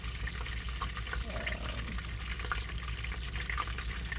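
Steak sizzles with butter in a pan on a stove inside a truck, a steady loud crackling fry that runs throughout the clip.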